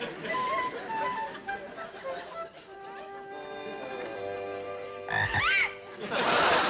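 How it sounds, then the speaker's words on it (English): Frogs in a comedy scene croak in a steady, continuous chorus of low, throaty calls at moderate loudness, blended with other background sound and ending in a louder burst of noise. "I'll pass out the frogs"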